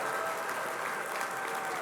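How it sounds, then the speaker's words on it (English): Applause from a gala audience, dense and steady, a sustained wash of hand claps at moderate loudness with no talk. "give them a round of applause"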